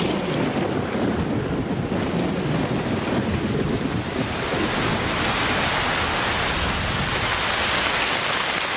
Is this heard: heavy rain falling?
yes